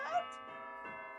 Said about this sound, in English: Deep bonging.